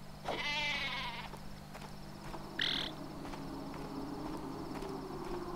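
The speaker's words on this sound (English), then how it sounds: "That's a sheep." A sheep bleats in the video game Worms Revolution: one wavering bleat near the start, then a shorter high cry a moment later, both over quiet game background hum.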